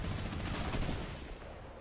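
Dense, continuous minigun fire in a battle royale video game, loud and close, with a rapid unbroken stream of shots that begins to fade near the end.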